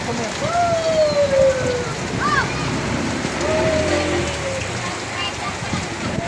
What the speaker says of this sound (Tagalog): Mag-ingat po ang lahat sa malakas na ulan na to.